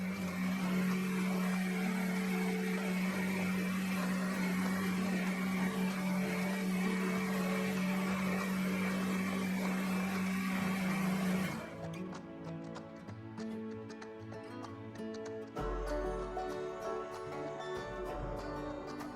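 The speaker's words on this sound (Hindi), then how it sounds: "फाइनली एक बार अच्छे से ब्लेंड कर लेंगे" A blender whirs steadily while making green chutney, a constant motor hum that runs for about eleven seconds before stopping, followed by quieter kitchen handling sounds.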